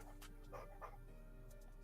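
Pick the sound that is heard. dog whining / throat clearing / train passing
dog whining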